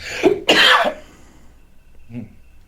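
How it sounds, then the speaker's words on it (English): A man gives a couple of sharp, close coughs in quick succession, followed a moment later by a softer throat-clearing sound. "Excuse me, I'm coughing."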